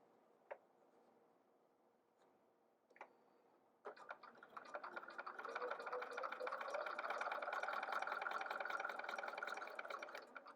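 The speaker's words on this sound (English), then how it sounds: "we want to stop with our needle down, rotate the unit, and continue to stitch" A sewing machine stitches English paper pieced fabric, starting after a few soft clicks and then running in a steady, fast mechanical whir with rapid needle ticks, fairly close and clear.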